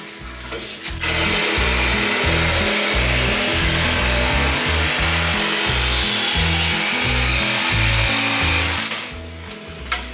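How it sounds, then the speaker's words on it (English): A power saw cuts through the old muffler on a lawn mower, sawing loudly and close with a steady chattering rhythm for about eight seconds before stopping, with no talking. "cut off that old muffler"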